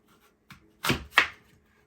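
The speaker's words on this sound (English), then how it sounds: "after you peeled the apples, cut them in half" A knife slices through peeled apples, cutting them in half: two crisp, close chopping strokes with a faint lighter tap just before them, all in a quiet kitchen.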